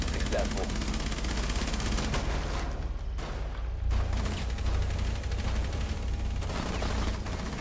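Sustained automatic gunfire from Rainbow Six Siege pounds nearly nonstop, loud and close, with short pauses between bursts and a player talking underneath.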